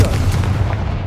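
A Confringo spell explosion in the video game Hogwarts Legacy, a loud, dense rumbling blast that fills the moment and fades toward the end.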